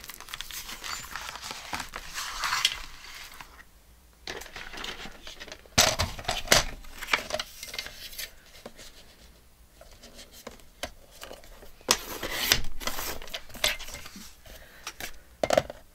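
Scissors snipping paper while making a mini journal with an ephemera pocket, close and fairly quiet, giving a few sharp cuts and rustles of handled paper among softer table noises.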